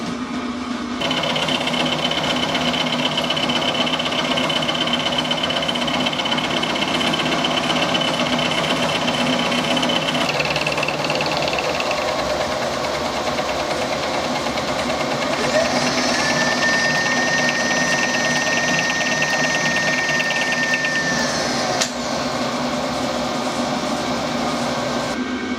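A machine cuts across a vintage saw table, taking about a millimetre off the surface in a steady, loud, continuous grind with faint tones shifting partway through, close by and with no talking.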